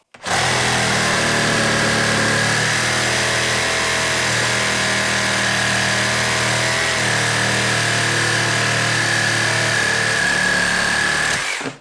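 A Makita reciprocating saw runs at speed 2 in one continuous, loud buzzing stroke close by, holding steady for about eleven seconds before cutting off, with no talking.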